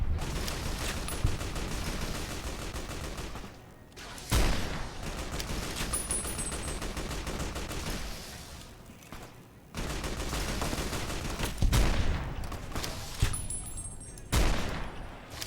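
Gunshots in Fallout New Vegas during the Lonesome Road DLC, loud repeated bursts of gunfire with sharp cracks and booms spread across the clip, separated by brief lulls.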